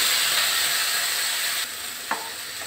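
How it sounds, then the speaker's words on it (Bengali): Spices frying in hot oil give a steady, close hiss and crackle that thins slightly partway through, with one brief stirring scrape near the end. "আমার তেল গরম হয়ে গেছে, এবার আমি মশলাটা ভেজে নেব।"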